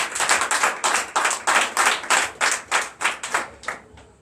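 A church congregation at a Sunday worship service in Comè, Benin claps in unison, about a dozen sharp, steady rhythmic claps that fill the room loudly and alone, with no talk over them.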